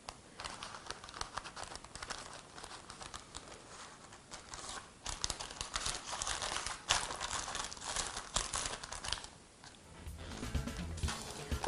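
A sheet of parchment paper is rolled into a cone and tightened by thumb, producing continuous close crinkling and rustling with brief pauses, with no talking.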